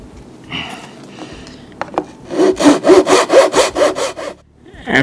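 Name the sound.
hand sawing N scale lumber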